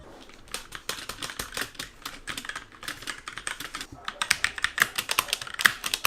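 Rapid, clicky keystrokes on an ASUS TUF Gaming K3 mechanical keyboard with red switches, typed in uneven bursts at close range with no voices.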